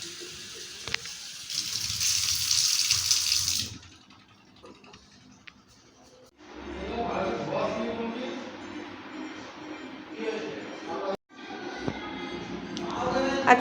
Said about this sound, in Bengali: ওই যে মেয়ের জন্য বোতলে জল ভরে দিচ্ছি।